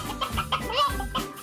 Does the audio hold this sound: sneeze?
no